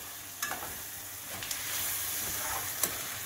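Spring onion sabji cooking dry in a pan, a steady soft sizzle with a few sharp scraping stirs of a spoon against the pan spaced across the moment, no voices.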